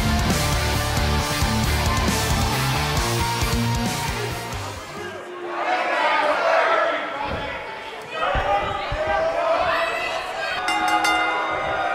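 A sold-out arena crowd roars and cheers continuously in the WWE 2K19 wrestling video game, loud and dense. A sharp cut midway leads into a busier mix of crowd noise and game effects.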